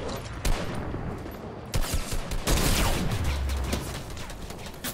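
Gunfire in the video game Fortnite, a dense continuous volley of rapid shots from several weapons at once, loud and sustained throughout with no speech.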